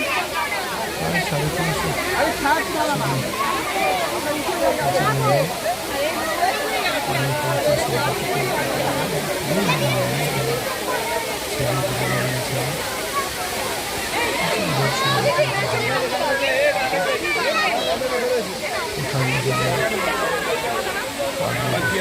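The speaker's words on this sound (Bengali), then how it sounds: "ফলসের সামনে" A waterfall at Purulia pours in a steady, loud broadband rush that never lets up, with people chatting and calling out nearby throughout.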